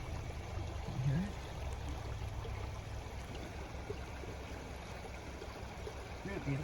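A winter creek in Saratoga Springs, New York flows with a steady, soft broadband rush that stays even throughout, heard at a moderate distance with faint low rumble beneath.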